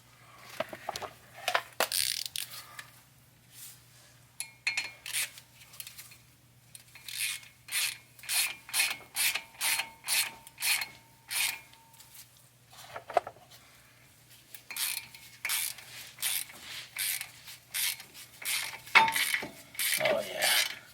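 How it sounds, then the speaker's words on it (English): Ratchet working to break loose a rusty, buildup-coated front caliper bracket on a Lexus ES 350, with rapid rhythmic clicking bursts repeated in several close, fairly loud runs, separated by short pauses. "Now we're going to take the caliper bracket. As you can see, there's a lot of buildup. Break it loose."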